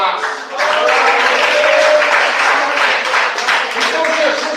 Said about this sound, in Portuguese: Me bate palmas.